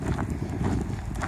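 Horses moving slowly on open farmland, their hooves giving a steady, close clip-clop rhythm against a dense low rumble of movement, with no voices.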